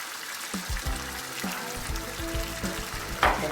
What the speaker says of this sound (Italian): Un paio di mestoli d'acqua di cottura della pasta.